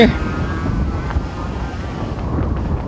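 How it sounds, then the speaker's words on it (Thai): Strong wind buffets the microphone in a steady low roar with gusty rumbling throughout, loud and close, at an autocross track before rain. "ลมมาครับน่าจะมีฝน"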